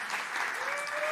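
Audience clapping at a LevelUp Day event, a brief dense burst of applause from the crowd lasting about a second, with a faint tone running underneath.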